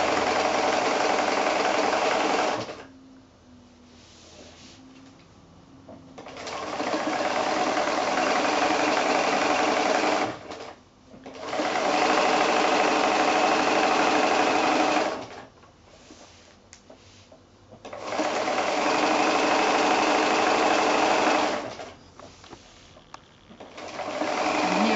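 A sewing machine hums steadily during free-motion quilting on a small piece, running in three long, loud stretches. Quieter pauses fall between them while the fabric is turned.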